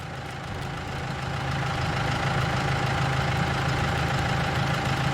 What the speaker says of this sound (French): On entend un tracteur.